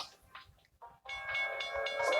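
A train rolls past on a track in the Brawl Stars mobile game, a rising mechanical rumble with whistle-like tonal hiss that grows louder and holds near the end, following brief game effects.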